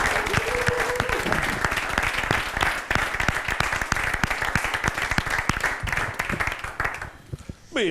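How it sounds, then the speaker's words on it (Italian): Loud, dense applause fills a room as an audience claps enthusiastically in a sustained burst, easing off near the end, with a brief voice at the start. "facciamo un grossissimo applauso"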